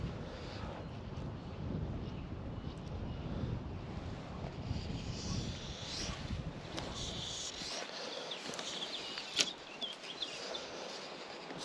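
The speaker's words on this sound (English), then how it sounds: "Wind's picked up." Wind gusting over open ground beside the River Ayr, a steady broadband rush of buffeting that fills the whole stretch, with a brief sharp knock near the end.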